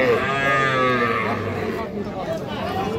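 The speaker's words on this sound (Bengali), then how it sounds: "শাহিওয়াল জাতের একটা বকনা বাছুর" A Sahiwal heifer calf at a cattle market gives a long, drawn-out moo close by, its wavering call filling the full three seconds, with faint voices in the background.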